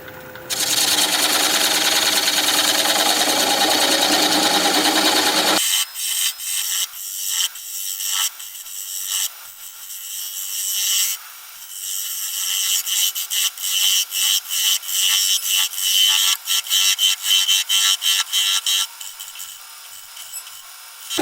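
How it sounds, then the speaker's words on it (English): A 3/8 inch standard grind bowl gouge cutting away the tenon of a thin-wall wooden bowl on a wood lathe turning at about 600 RPM. A loud continuous rasp comes first, then a long run of rapid rhythmic scraping and chattering cuts. "I will grab a 3/8 inch standard grind bowl gouge and begin removing that tenon"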